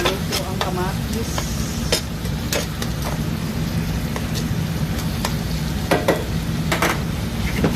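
Tomatoes for a dried fish dish cook in a pan with a steady, dense sizzle like rain, broken by scraping stirs and sharp clicks of a utensil against the pan, close and continuous.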